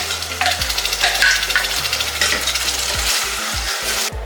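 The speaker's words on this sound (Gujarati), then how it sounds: "તો હવે એ તેલ ગરમ થઈ ગયું છે એટલે હવે આપણે આ ચટણી એની અંદર એડ કરી દઈશું." Chutney tipped into hot oil in a pan while cooking Gujarati-style khichdo, giving a loud, busy sizzle with stirring scrapes that continues steadily for a few seconds before fading.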